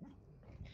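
A dog barks and whimpers faintly in the distance, a brief, quiet burst of canine yips.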